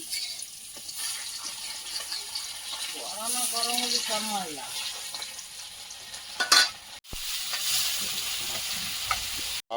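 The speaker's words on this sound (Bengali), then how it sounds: "এত বড় এক কিলো মাছ ভাজা যাবে" Large sea fish fries in a kadai over a strong flame with a continuous close sizzle. A person talks briefly over it, and a loud clatter breaks in near the end.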